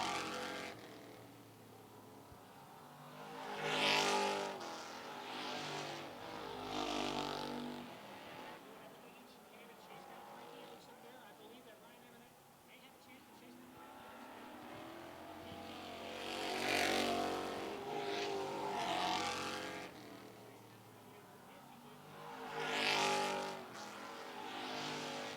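Stock cars race around an oval speedway at a street stock feature, their engines swelling loudly as the pack passes and fading in between, under continuous commentary over a public address.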